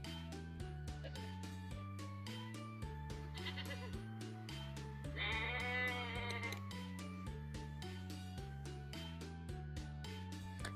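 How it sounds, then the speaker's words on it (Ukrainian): A goat bleats once, a wavering nasal cry standing out over a steady bouncy children's tune with a thumping beat. "Правильно, дітки, це коза."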